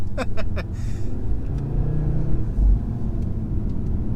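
Audi RS3 engine heard from the cabin as a deep, steady rumble with a few brief throttle blips and a low surge as it pulls.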